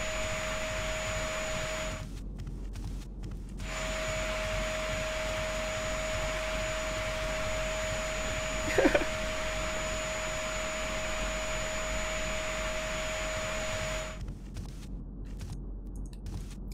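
A vacuum cleaner runs steadily in the indie video game A Good Husband, a continuous electronic drone with a held tone that cuts out briefly twice, plus a short click near the middle.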